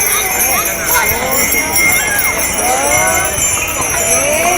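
Donkeys walking past at the Tres Tombs procession in Vilanova i la Geltrú, hooves clip-clopping steadily on pavement amid crowd noise, with people talking nearby throughout.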